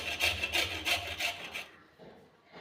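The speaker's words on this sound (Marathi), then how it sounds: "आपण अशा पद्धतीने हे सगळे गाजर इथे किसून घेणार आहोत" Carrots for traditional gajar halwa being grated by hand, giving about six steady, raspy rubbing strokes in a quick rhythm that stop abruptly, followed by a quieter stretch.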